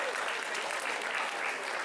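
An audience at a convention cosplay contest results ceremony applauds the best individual contestant, a short, dense burst of clapping heard close and steady.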